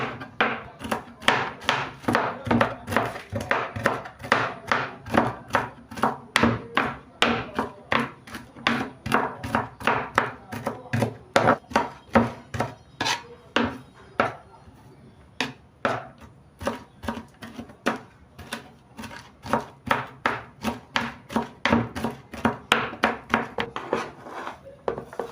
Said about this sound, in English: you can cut your okra with any of these methods I'm using